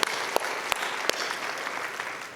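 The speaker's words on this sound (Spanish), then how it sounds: "Dale un fuerte aplauso al Señor." A church congregation applauds during a sermon with a steady wash of clapping. A few sharp, close claps stand out, and the sound is fairly quiet and continuous.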